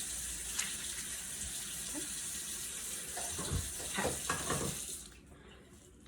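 Running tap water streams steadily while hands cup and scoop it during a curly hair wash, with a few splashes, before the flow stops; a voice speaks briefly.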